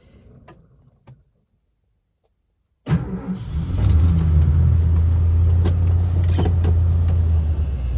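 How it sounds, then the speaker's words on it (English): A plugged-in vehicle engine cold-starting at two below zero: faint rattling and a click, a short silence, then the starter catches and the engine roars into a loud, steady idle with a low rumble and occasional clinks. "Cold start. Cold start indeed. 2 below."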